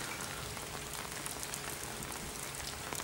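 Steady rain pattering on surfaces beside the boat harbour at Lac du Bourget, Aix-les-Bains, a dense, even hiss of drops with no voices.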